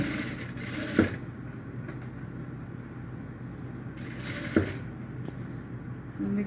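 A sewing machine stitching doll clothes runs in a steady hum under quiet background, with two brief louder bursts of activity and no talking.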